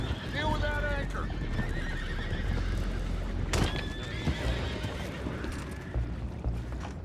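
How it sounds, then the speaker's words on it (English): Horses whinny and neigh repeatedly in the Red Dead Redemption 2 game world, with clip-clopping hooves, wind and ambient noise, and characters talking over the scene. "go find out about those horses down below"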